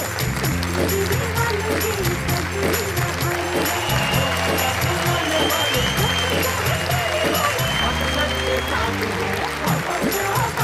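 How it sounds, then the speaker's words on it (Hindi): Steady crowd applause at a Hindi poetry event fills the whole stretch, with music playing underneath and voices mixed in. "जोरदार तालियां संगीता सरल।"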